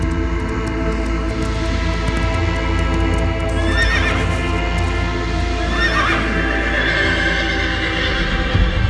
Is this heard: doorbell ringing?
no